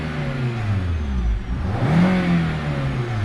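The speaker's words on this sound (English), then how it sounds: "when it's misfire, okay, right now you could definitely hear the vibrations" A misfiring Nissan or Infiniti engine idles with a steady low rumble and wavering drone, its pitch dipping and rising slightly, heard up close with no talk.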